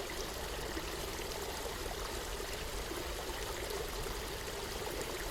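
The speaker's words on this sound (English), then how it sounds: "I've got a stream running alongside the side of the tent" A woodland stream runs beside a tent at a winter wild camp, making a faint, steady rush and trickle of water with no other sounds.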